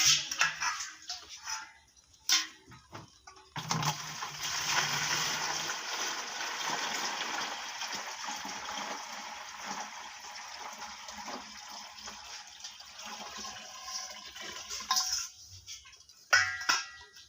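Water is poured into a container to make salt water for hand-fried puffed rice. A steady gushing stream runs for about ten seconds, close and continuous, with brief splashes before and after.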